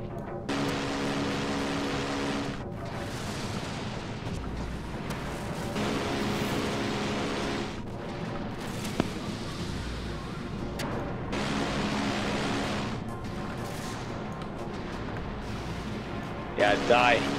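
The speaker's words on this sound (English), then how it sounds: "Just empty the cannon so we can go for a reload." Ship cannons boom repeatedly in the video game Dreadnought, heavy blasts arriving in bursts every couple of seconds over rumbling background noise and occasional speech.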